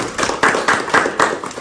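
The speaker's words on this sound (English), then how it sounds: "that's the first clap of the day" A few hand claps from a student audience at Gondar University in Ethiopia, spaced in an uneven rhythm, fairly close and crisp with no talk over them.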